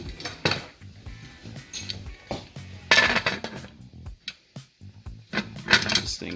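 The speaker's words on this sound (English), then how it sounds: "I'm just going to fire the lid on of my pressure canner here" A metal lid is set and twisted onto a pressure canner while canning turkey broth, giving a series of close, irregular clanks, scrapes and clinks with short quiet gaps between them.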